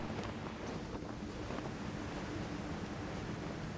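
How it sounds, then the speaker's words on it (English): Steady rushing wind-like whoosh while gliding through Genshin Impact, a continuous broadband roar like wind or surf that holds at an even, moderate level for the whole stretch with no voices. "I was going to say it sounded like water rushing or like wind."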